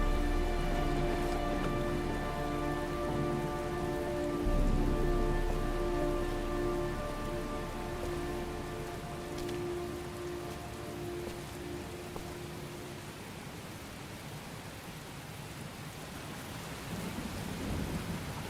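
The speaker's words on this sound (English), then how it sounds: "see the rain and thunder" Steady heavy rain with a low rolling rumble of thunder in the video game Heavy Rain, plus a faint sustained tone early on that fades, continuous and fairly loud.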